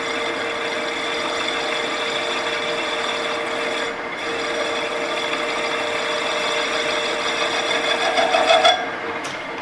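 A weld bevel cut on thin steel plate, heard as a steady, loud, high-pitched machining whine with a ringing tone that runs without a break for about nine seconds, then stops abruptly.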